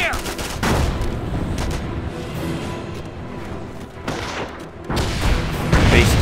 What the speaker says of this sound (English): Taking full-on fire here!